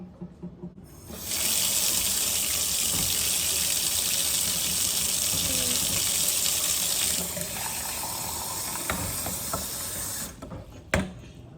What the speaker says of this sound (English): I'm going to go over here to the sink with a cup.